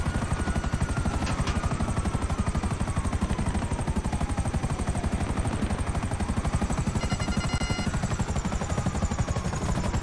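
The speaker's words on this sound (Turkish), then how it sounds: "Polis helikopterinden bir kurtulabilsem." Police helicopter in the video game Grand Theft Auto Online: a steady, loud rotor chop pulsing throughout, with faint game effects layered over the continuous thrum.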